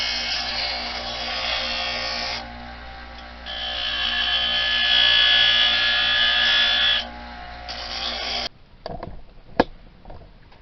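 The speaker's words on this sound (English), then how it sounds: "I'm going to jump around me on my bench grinder, just clean this profile up a little bit." A bench grinder cleans up the profile of a hand-forged English trade knife blade, giving a loud, steady motor whine whose pitch and load shift as the steel is pressed on, then spinning down near the end with some clatter.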